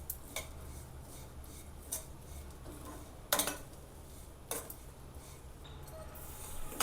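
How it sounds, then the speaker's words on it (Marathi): Moong dal is dry-roasted in a pan with no ghee, giving a quiet steady rustle punctuated by several sharp scraping clinks of a spatula against the metal, with no talking. "आता आपण ही चांगली डाळ अशी भाजून घेऊया"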